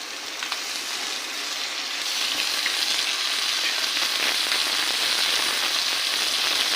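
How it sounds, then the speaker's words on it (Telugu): Green chillies and tomatoes fry in a hot pan while paneer butter masala is being made. A dense, steady sizzle runs throughout and grows slightly louder partway through, with no talking. "చూడండి ఇలా బాగా వేగాక మనం ఇప్పుడు దీంట్లో పచ్చిమిర్చి టమాటాలు వేసుకున్నాము."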